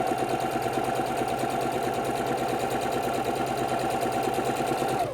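A sewing machine stitching across quilt fabric, running at a steady fast rhythmic whir for several seconds before winding down at the end, close and alone.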